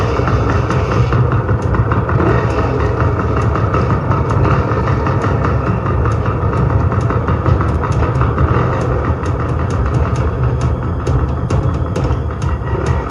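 A steady engine rumble drones continuously at close range, loud and unchanging, with faint clicking ticks scattered over it.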